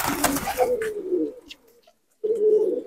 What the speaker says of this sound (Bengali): পায়রা সব এসছে।